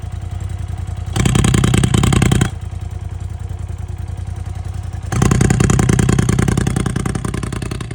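An off-road side-by-side with an RPM aftermarket exhaust idles loudly, then revs hard twice in separate bursts, each a throaty roar before dropping back to a burbling idle.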